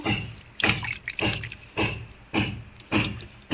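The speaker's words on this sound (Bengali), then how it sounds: "আমি জলের মধ্যে পরিষ্কার করে ধুয়ে নিচ্ছি" Banana flower being washed in a bowl of water, with repeated splashing and dripping bursts roughly every half second, close and fairly quiet.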